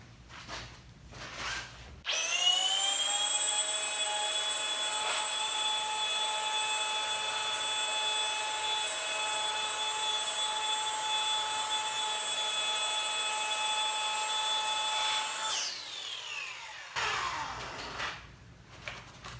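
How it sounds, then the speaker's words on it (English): A rotary polisher with a wool pad working car paint. The high-pitched motor whine spins up, holds a steady tone for about thirteen seconds, then winds down, with handling noise before and after. "using a rotary polisher and the wool pad"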